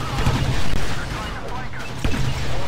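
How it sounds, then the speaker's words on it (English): Grenade blasts and gunfire crackle across a Dagobah battlefield in Star Wars Battlefront 2, a dense run of loud thumps and bangs, fairly close, with a couple of stronger hits near the start and end. "Random throwing of grenades."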